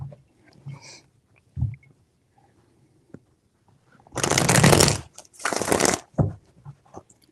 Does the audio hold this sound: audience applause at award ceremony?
no